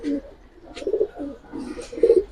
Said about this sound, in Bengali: সারাদিন যারা ডাক শুনতেছেন কবুতর ফুল ফ্রেশ গলা কষা